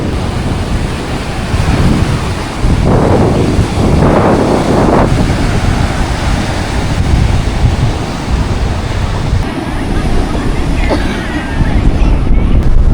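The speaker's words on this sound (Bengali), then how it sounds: "আর এরম লেভেলের ঢেউ, আর প্রচণ্ড হাওয়া দিচ্ছে," Strong gusting wind roars across the microphone on Mousuni Island while sea waves surge and break nearby at rising tide, a loud continuous rush with swelling peaks.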